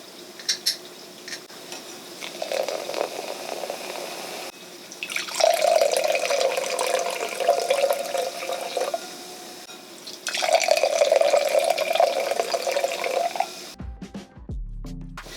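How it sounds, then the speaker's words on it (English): A can of White Claw hard seltzer is opened and poured into a glass, giving two bursts of close splashing pour with a bright fizzing hiss between quieter pauses, ending in a sharp clatter. "There's a lot of splashes of bubbles on the side, and it is still bubbling over the top of my glass."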